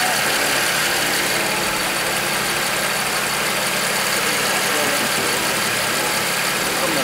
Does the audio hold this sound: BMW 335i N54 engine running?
yes